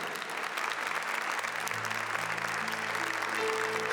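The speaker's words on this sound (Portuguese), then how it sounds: "Se você quer aplaudir, aplauda, mas aplauda para valer." Applause from a church congregation during a priest's sermon, a steady wash of clapping from many people that holds its level for several seconds, with a faint sustained tone rising underneath.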